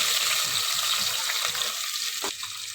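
Onions and biryani masala with whole spices frying in a pan, a steady, fairly loud hiss of oil with faint stirring, no talk.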